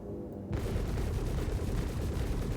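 Ship weapons fire at a satellite in the Star Citizen space game, a dense rumbling barrage of blasts that starts abruptly after a brief quiet moment and keeps pounding loudly and continuously to the end.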